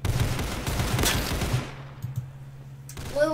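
A quick burst of AK rifle fire in the Roblox shooter Counter Blox, rapid close shots for about a second and a half, then quiet with a few faint clicks.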